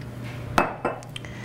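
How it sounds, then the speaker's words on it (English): A metal spoon scrapes the skin off a fresh piece of ginger root, giving two short, close scratchy strokes followed by a faint small tap, with no talking. "And take a spoon to peel off the outside skin."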